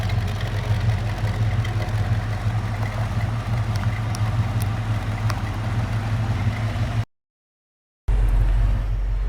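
A 1964 Ford Mustang convertible with a 289 V8 and trumpet exhaust idles steadily, a low rumbling burble that stops abruptly, then resumes for a moment.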